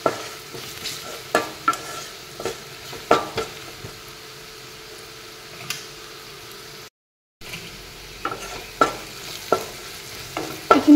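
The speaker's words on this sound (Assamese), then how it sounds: "1 মিনিট সময় এনেদৰে এইখিনি ভাজি ল'ম।" Ground spices, including chili powder, fry in hot oil for a small fish curry while a spoon stirs and scrapes the pan, giving soft continuous sizzling broken by repeated sharp clinks.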